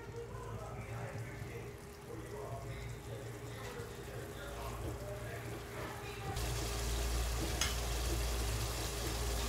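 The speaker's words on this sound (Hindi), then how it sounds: "इसको थोड़ा सा और भून लेते हैं दो तीन मिनट" Marinated chicken fries in a pan with its leftover spice marinade, giving a steady low sizzle that swells noticeably louder partway through, with a voice talking over it.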